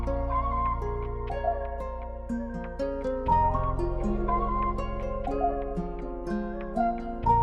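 Wavy guitar sample with vocal in FL Studio, giving an ethnic feel: plucked melodic guitar phrases over a deep sustained bass, with a vocal layer blended in, continuous and moderately loud.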